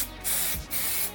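Two short bursts of aerosol etch primer spray hiss close by on a Golf GTI wing, separated by a brief pause.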